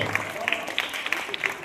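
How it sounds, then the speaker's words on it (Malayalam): Light clapping from a small group, scattered and uneven, heard alongside background murmur. "നല്ലൊരു കയ്യടി കൊടുത്തവരെ പ്രോത്സാഹിപ്പിക്കുക."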